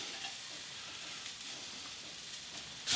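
Garlic cloves sizzle in a hot pan of browned vegetables with the heat switched off, a steady close frying hiss for a vegan stuffed pepper dish, lasting throughout with a brief louder burst at the very end.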